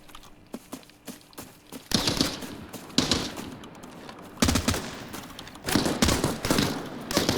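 In Arena Breakout: Infinite, MP5 gunfire crackles in loud, sharp bursts, with scattered single shots early and then several heavy automatic volleys spaced a second or so apart.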